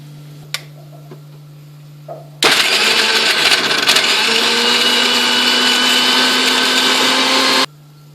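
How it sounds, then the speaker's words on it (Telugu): A kitchen mixer grinder whirs loud and steady for about five seconds as it grinds poppy seeds, dry coconut, almonds and garlic into a paste, starting abruptly after a few small clicks and stopping sharply. "వీటిని పేస్ట్ లాగా గ్రైండ్ చేసుకున్నాం"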